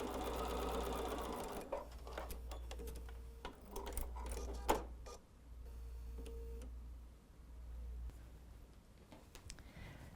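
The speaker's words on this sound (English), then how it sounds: "And then just sew straight off." A sewing machine stitches quilt squares for a bubble quilt, running in a steady low mechanical hum with a rapid ticking needle, stopping and starting a few times amid soft handling clicks and fabric rustles, close and alone.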